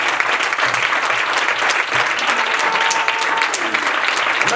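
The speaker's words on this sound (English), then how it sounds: "clap your hands for about 10 seconds." A church congregation claps their hands together, producing dense, sustained applause close by that holds steady throughout without a break.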